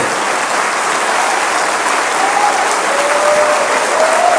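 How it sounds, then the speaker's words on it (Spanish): A church congregation claps for the Lord in a loud, dense, sustained burst of applause, steady throughout with faint tonal sounds riding over it. "Dale otro aplauso al Señor."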